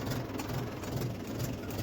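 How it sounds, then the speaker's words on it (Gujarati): A tractor engine runs steadily while pulling a rope taut to stretch it on a farm, giving a close, continuous low chugging rumble with no voices. "આપણે ટ્રેક્ટર આગળ લઈ જઈએ"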